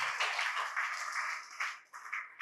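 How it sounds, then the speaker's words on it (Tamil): Audience in a Tamil Christian revival camp hall in Chengalpattu claps hands together, a dense, steady wash of applause that swells and dips over a couple of seconds, with no talking over it. "கைதட்டுங்களேன்"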